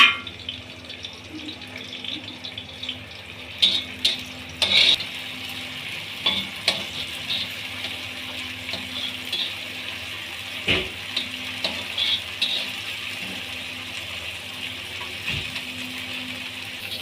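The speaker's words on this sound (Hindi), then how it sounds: "एक कढ़ाई के अंदर आधा कप ऑयल डाल लें और इसके अंदर जो हमने प्याज कूटे थे वो डाल लें।" Crushed onions fry in about half a cup of oil in a wok, giving a steady close sizzle broken by intermittent scrapes and clinks of stirring.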